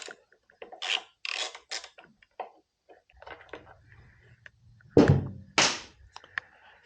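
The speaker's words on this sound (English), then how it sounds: "there are 2 bolts down here. Both are 10mm. We're going to loosen those up and take those right out." A wrench works two 10mm bolts loose on a 2001 Honda XR50R motorbike, giving close scraping, ratcheting rasps in short bursts and a heavier thunk near the end, with no talking.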